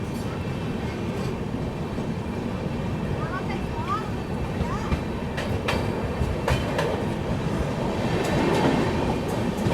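The 12487 Jogbani–Anand Vihar Seemanchal Express rolls along after departing, a steady loud rumble with clattering wheels heard from aboard, while someone talks over it.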